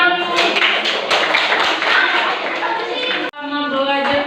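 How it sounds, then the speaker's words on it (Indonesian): Pupils in a classroom clap their hands together in a brisk, loud burst of rapid, uneven claps that runs for a few seconds, breaks off, then resumes briefly. "Beri tepuk tangan dulu."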